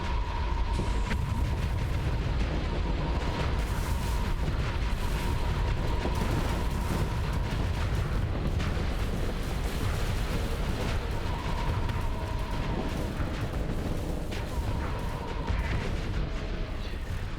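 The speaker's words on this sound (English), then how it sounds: "His point defense is destroying our missiles as they come in." Starsector space battle in which point defense beam weapons shoot down incoming missiles and torpedoes, giving a continuous dense roar of booms, crackles and bursts that runs steadily throughout with no voices.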